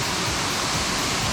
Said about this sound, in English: So this is the waterfall where you can actually go